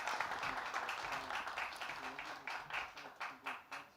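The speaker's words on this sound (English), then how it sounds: "Won't you give Gosia a big round of applause?" Applause from an audience at a scientific merit awards ceremony, individual claps distinct and fairly faint, thinning out toward the end.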